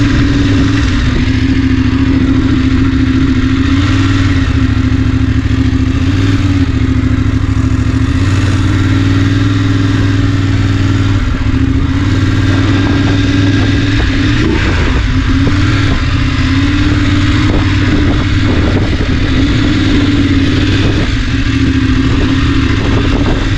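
A Voge DSX 900 motorcycle engine runs loud and close throughout, with a continuous rumble that rises and swells as it revs.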